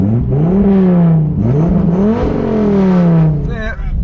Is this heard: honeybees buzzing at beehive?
no